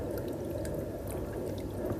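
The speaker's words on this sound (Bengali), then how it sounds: "বাসার ফেলে দেওয়া জিনিসগুলো দিয়ে একটা ঝর্ণা বানালাম" A homemade fountain built from discarded household items sends out a steady, moderate rush of falling water, with fine splashing and dripping close by and no pause.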